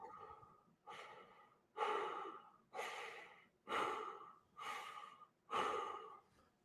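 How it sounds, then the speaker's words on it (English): Heavy, slow breathing through a Michael Myers mask, six loud, drawn-out breaths in a steady rhythm, close to the microphone with no talking. "God, dude, we got to hear the breathing."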